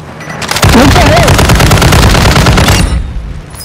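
Sustained automatic gunfire from Call of Duty Warzone 2 bursts in loud and close, a dense rattle lasting over two seconds before cutting off.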